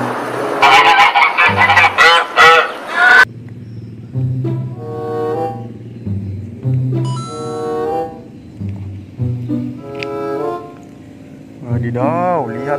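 Ducks quacking in a series of loud, nasal, honking calls in bursts with short gaps, heard alongside a brief stretch of busy noise and talk at the start.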